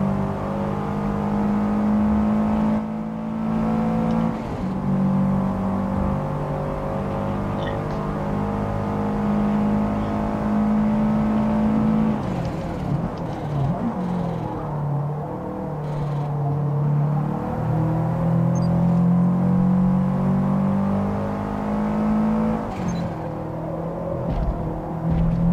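Race car engines in the video game Forza Motorsport on PC, a steady loud whining drone that shifts pitch with gear changes and revving, with other cars passing, no talk.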